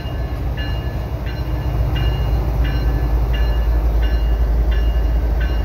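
CPKC mixed freight train led by a pair of ES44 locomotives with Union Pacific foreign power rolls past at Dorval in winter, a loud steady rumble with rhythmic wheel clicks repeating about every half second, no talking.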